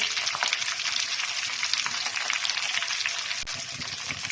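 Chicken, cheese and potato balls fry in hot oil with a constant, close crackling sizzle that holds steady and even, with no voices.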